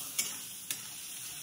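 Chicken pieces stirred into a spice masala frying in oil, a steady close sizzle with two quick scraping strokes of the spoon, no voices.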